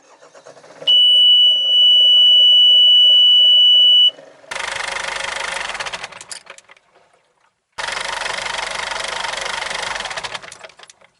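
A Yanmar 4JH2TE marine diesel engine aboard a sailboat: a steady, piercing alarm tone sounds for about three seconds, then the loud engine clatter runs, cuts out abruptly, and resumes.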